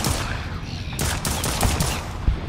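Gunfire in the horror shooter Project R.I.P, a series of sharp shots over a dense, noisy game backdrop, close and loud, several reports in quick succession with no talking.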